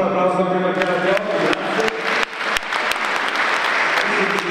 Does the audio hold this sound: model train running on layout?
no